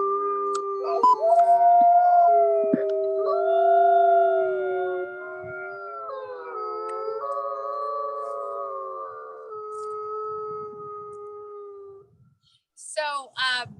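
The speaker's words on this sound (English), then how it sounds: "we know they could keep howling." Several Mexican gray wolves howl together in long, sliding, overlapping tones that hold for about twelve seconds, clear and fairly close, before a brief pause and a short burst of sound at the end.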